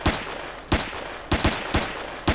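Sharp gunshots from the video game Empyrion ring out in a close, punchy sequence. Four loud cracks come at uneven intervals, the later ones closer together, over a low background hum.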